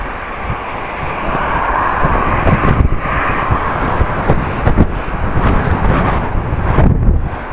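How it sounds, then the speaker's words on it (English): Strong wind roars and buffets the microphone while riding a bicycle on a windy road, a loud rushing blast with gusty surges and no talking. "this is definitely wind in the back"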